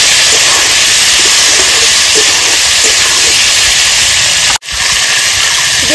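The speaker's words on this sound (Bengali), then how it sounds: "এবার দিয়ে দেবো কেটে রাখা ঝিঙেগুলো।" Chopped ridge gourd dropped into hot oil with potatoes, giving a loud, continuous close sizzle and hiss that cuts out abruptly near the end, then resumes.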